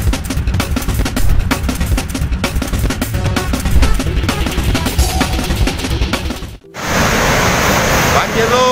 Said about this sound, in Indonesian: banjir sangat kencang sekali. Banjir datang secara tiba-tiba.